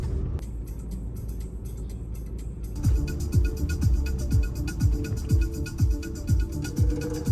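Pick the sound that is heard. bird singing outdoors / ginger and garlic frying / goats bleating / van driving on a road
van driving on a road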